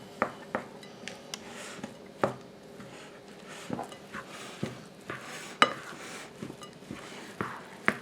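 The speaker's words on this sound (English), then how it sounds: "I'm going to take my crumbled up Christmas trees and we're going to stir it into the cream filling" Crumbled Little Debbie Christmas Tree Cakes being stirred into a cream filling in a bowl, with a spoon scraping and clinking against the dish in quiet, uneven taps and scrapes.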